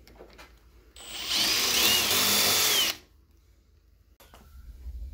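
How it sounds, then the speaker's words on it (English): A power drill whines loudly for about two seconds, grinding at high speed as it enlarges a hole in metal, then stops, leaving faint background noise and a small clunk. "I think I'm gonna take a drill bit, see if I can open that up a little bit more"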